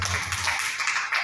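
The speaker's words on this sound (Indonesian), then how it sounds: "Kita berikan tepuk tangan." A church congregation applauds together during a morning worship service, a dense, steady patter of many hands clapping at close range for a brief moment.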